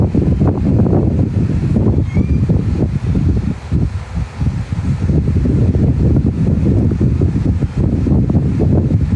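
An electric fan blows air straight onto the microphone indoors, producing a loud, steady, low buffeting rumble that lasts the whole stretch with no talking.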